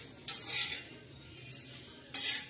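Sesame seeds dry-roasting in a pan are stirred in two short, close bursts of bright scraping and rattling, separated by a quieter stretch.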